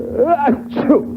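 A man's exaggerated sneeze in a vintage radio comedy commercial, a single loud, drawn-out voiced "ah-choo" with a wavering moan, close and alone.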